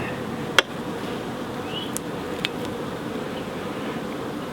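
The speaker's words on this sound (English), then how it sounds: "There's a little bee there, look, eating that." Bees buzz continuously around a beehive, a close, steady droning hum with a couple of brief sharp clicks.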